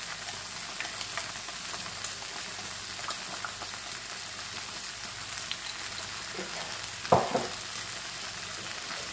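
Gluten-free spaghetti noodles stir-fry in a pan with smoked paprika, cayenne pepper and soy sauce, giving a steady close sizzle with soft stirring scrapes and one sharper utensil clatter near the end.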